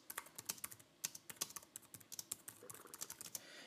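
Typing on a Mac computer keyboard, a quick irregular run of crisp key clicks, close and quiet, with no voice.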